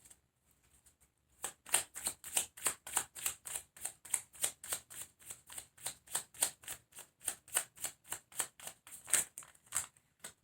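Tarot cards being shuffled by hand, a fast rhythmic series of crisp riffling slaps repeating for several seconds, close and clear with no talking.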